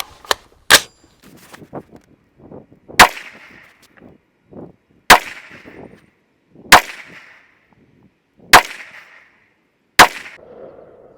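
Ruger SFAR rifle firing reloaded ammunition outdoors, six sharp loud reports spaced a couple of seconds apart, each with a brief ringing tail, and faint handling noises between shots.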